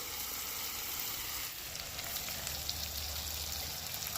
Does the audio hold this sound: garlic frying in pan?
yes